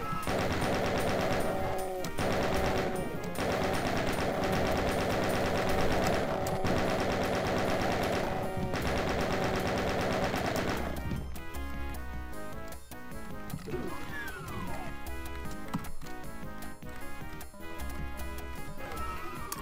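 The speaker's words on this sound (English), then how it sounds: "This time we're going to use the chain gun." Rapid chaingun fire in the video game Ultimate Doom, a dense rattling burst of repeated shots over game music that gives way to scattered bursts and other in-game effects.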